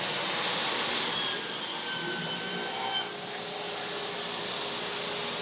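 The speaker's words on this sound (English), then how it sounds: "we're going to get our backer board just cut down to the size we want it" Backer board being cut to size for a craft fair project, a steady rasping saw-like scrape running for about three seconds before dropping to a quieter hiss, with no talk.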